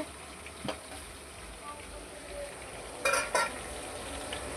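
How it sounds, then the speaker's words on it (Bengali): Fish and potatoes frying side by side in a home kitchen late at night, a steady low crackle and sizzle with a few sharper spits and bursts partway through. "একদিকে মাছ ভাজা হচ্ছে আর একদিকে আলু ভাজা করা হচ্ছে"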